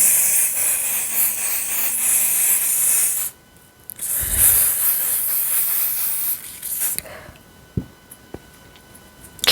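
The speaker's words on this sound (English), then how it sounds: "So I'm gonna use this glue to spray on around, right?" Lace wig glue sprayed from a can in several long hissing bursts, loud and close, with short pauses between sprays and a few faint clicks and handling sounds near the end.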